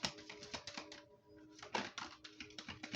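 Tarot cards being shuffled over and over, a fast crisp run of papery riffling and tapping that drops away for a moment and then picks up again, close and fairly quiet.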